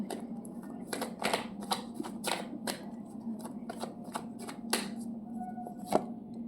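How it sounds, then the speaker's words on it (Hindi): Tarot cards shuffled and drawn by hand, a close series of soft papery riffles and flicks in irregular bursts over a low steady hum. "मैं एक कार्ड और निकालती हूँ।"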